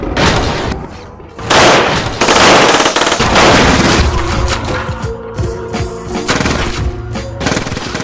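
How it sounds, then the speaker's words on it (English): Rapid bursts of gunfire crackle and boom in quick succession, loud and chaotic, with several volleys overlapping across the whole stretch. "the sound of gunfire fills the air"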